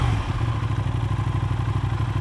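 2024 Aprilia RS660 parallel twin motorcycle engine running close by, a loud, deep, pulsing throb with a steady rhythmic beat throughout and no voices.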